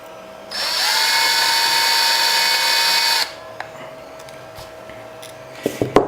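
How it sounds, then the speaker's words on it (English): A power tool runs a steady, high whine for about three seconds while tightening a lock nut on a Trestle 3D printer's effector assembly, then stops, leaving a faint tone and a few small clicks and taps. "Now go ahead and tighten up the lock nut almost to the end of the threads."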